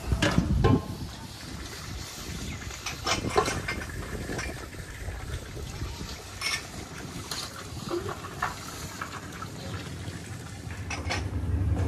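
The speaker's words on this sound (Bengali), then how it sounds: "চারিদিকে হাওয়া দিচ্ছে" Wind gusts buffet the microphone in uneven bursts outdoors at Ritabani Resort, a rough rumble rising and falling throughout with no clear voices.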